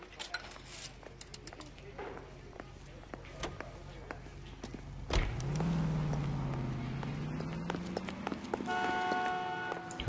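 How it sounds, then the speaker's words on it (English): In the video game L.A. Noire, a car horn sounds among city street noise and engine rumble, a sustained tonal honk near the end over a steady motor drone, with voices in the background. "Who's honking?"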